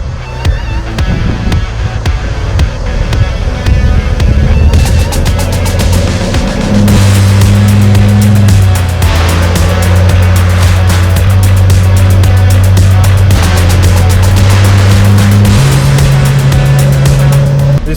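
A Mitsubishi 4WD drives onto the sand at a beach between Two Rocks and Wilbinga, its engine a loud, steady close drone whose pitch steps up and down as it moves, with wind rush over it.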